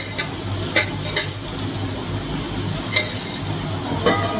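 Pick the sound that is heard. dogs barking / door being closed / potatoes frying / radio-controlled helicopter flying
potatoes frying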